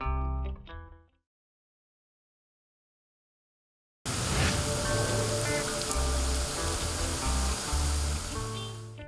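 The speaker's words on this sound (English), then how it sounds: "the last time I remember it raining continuously all day, and it just never stopped until about 5 o'clock in the evening" Steady rain falls across a Florida fishing area, a dense continuous hiss after a brief break in the sound, loud and unbroken with a low rumble beneath.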